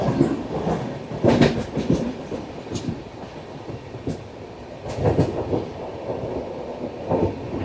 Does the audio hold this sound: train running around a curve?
yes